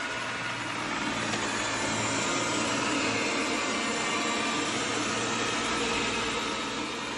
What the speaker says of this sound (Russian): запусти пылесос